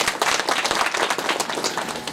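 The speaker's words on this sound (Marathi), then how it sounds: "त्यांच्याकरता एकदा जोरदार टाळ्या झाल्या" A crowd applauding for a kirtan performer, dense overlapping claps in a lively, steady burst lasting the whole moment.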